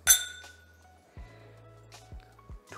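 Glasses clink together in a toast at a rum tasting, a bright ringing clink up front followed by several fainter taps and knocks on a table.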